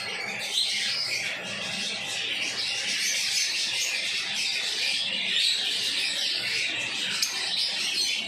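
Albino red-eyed pet birds in a breeding setup call continuously with high chirps and squawks, a dense aviary chorus layered close by without speech.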